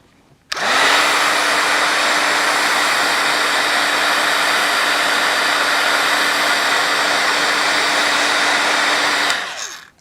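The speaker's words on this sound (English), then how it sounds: "I was going to hit this with my heat tool just to speed along the oxide drying." Heat tool blowing to dry distress oxide ink, a loud steady close-up whoosh with a constant whine that switches on sharply, runs unbroken for about nine seconds, then cuts off.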